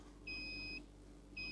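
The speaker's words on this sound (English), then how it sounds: "the electricity meter beeps again" Electricity meter in the video game Pikabuu: STOP! gives two short, clear electronic beeps, one long and one starting at the end, each a steady high tone over a low background hum with no talking.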